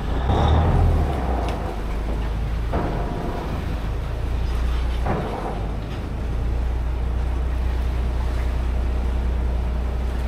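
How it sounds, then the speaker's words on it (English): A ferry's engine rumbles steadily with wind and water noise around it, a few soft knocks breaking through as the vessel pulls away from the pier. "as the boat starts to move away from the pier"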